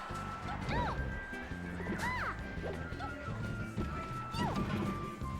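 Jigglypuff's down smash lands in a Super Smash Bros match, giving a sharp impact crash among bright game sound effects and ringing tones, heard under continuous commentary.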